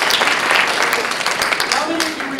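An audience at a magic and mentalism show claps in a brief, dense burst of applause while a voice talks over it.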